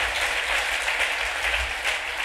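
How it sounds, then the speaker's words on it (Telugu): Loud, steady clapping from a church congregation during a Telugu sermon, dense and continuous from start to finish with no talk over it. "చప్పట్లు కొడదాం అందరూ గట్టి గట్టి గట్టి గట్టి"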